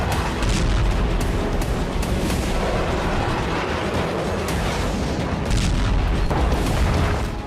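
A Russian artillery bombardment on the eastern front line in Ukraine: dense, continuous booming and rumbling with repeated sharp blasts, loud and unbroken, with no speech.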